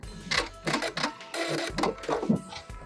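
A sewing machine runs in short bursts, starting and stopping several times as it backstitches and sews a fabric gift bag seam, close and fairly loud.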